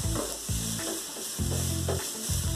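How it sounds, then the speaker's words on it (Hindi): Chopped onions sizzle and fry in a pan for a spicy Maharashtrian Kolhapuri baingan masala, a steady close hiss broken by several scraping stirs. "अब हम इसमें डालेंगे कटी हुई प्याज और इसको अच्छे से भून लेंगे।"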